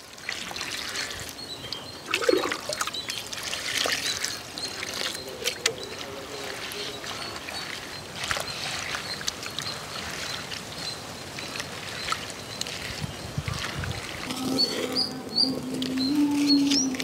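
Spinach leaves being washed in water, with trickling, sloshing and light splashing close by, steady over the whole stretch with a few brief louder swishes.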